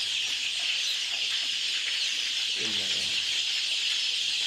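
A large flock of black chicks, around four thousand, peeps in a constant high-pitched chorus that fills the space, with a brief low clucking or voice surfacing midway.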